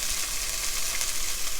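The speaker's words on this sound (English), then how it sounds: "You're going to cook this until the onion is about starting to get translucent" Onions sizzle and fry steadily in a hot pan for a Soybean Manchurian dish, a continuous close crackling hiss with no talking.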